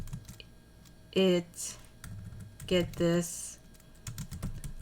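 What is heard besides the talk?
typing on a computer keyboard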